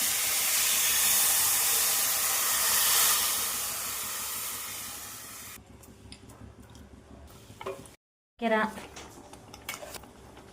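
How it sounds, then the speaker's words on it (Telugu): Milk poured into a pan of vermicelli fried in ghee, beginning with a loud steady hiss and sizzle that fades, then gives way to clinks of a utensil on the pan and a brief voice. "నెయ్యిలో సేమ్యాలు వేపుకున్నాక పాలు పోసుకుందాం దీంట్లో"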